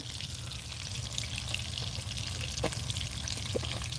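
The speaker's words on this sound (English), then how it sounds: "So iron skillet, little open fire, and just kind of letting it cook now." Freshly caught trout fries in an iron skillet set over a small open fire, a soft, steady sizzle with faint outdoor background and occasional light clinks, no one speaking.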